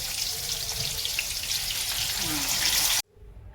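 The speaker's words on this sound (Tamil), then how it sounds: "Fish fry." Fish fries in a pan with a loud, dense, close crackling sizzle that cuts off abruptly near the end.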